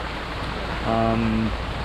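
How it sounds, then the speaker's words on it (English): Steady, dense hiss of a heavy rainstorm at a track weekend, loud and close throughout, with a brief tonal hum rising over it in the middle. "if you can't tell by the background noise, I'm in a rainstorm"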